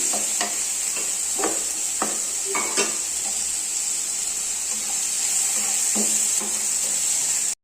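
Finely chopped medium tomato is sautéed in a hot pan for a quick leftover-rice dish. A loud, steady sizzle runs throughout, with several close, sharp spatula scrapes and taps early on.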